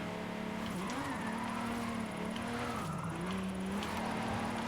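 A car drifts in Forza Horizon 5, its engine droning steadily while the pitch rises and dips with throttle changes, loud and continuous with no pauses.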